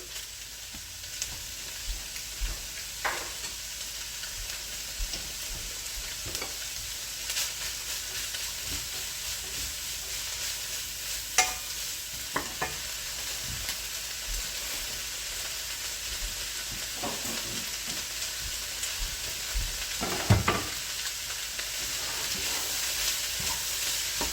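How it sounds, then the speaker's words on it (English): Garlic sizzling in a hot pan for kimchi fried rice, a steady soft hiss of frying broken by occasional spatula scrapes and taps as it is stirred, with no talking. "I'm gonna add about a good big couple tablespoons of garlic."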